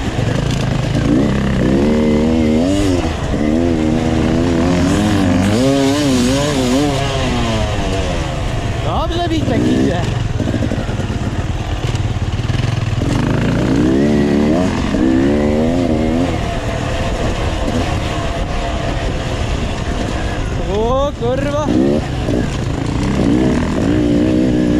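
An enduro motorcycle on a training track, ridden on a cold engine, roars loud and close and revs up and down through repeated surges for about twenty-five seconds, while people talk over it.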